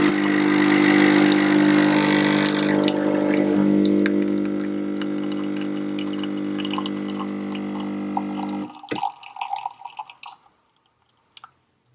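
A Nespresso machine brews a Starbucks Blonde Espresso Roast pod, giving a steady loud pump drone with a low hum that runs for about eight seconds. It then cuts off into faint drips and small clicks, with no one talking.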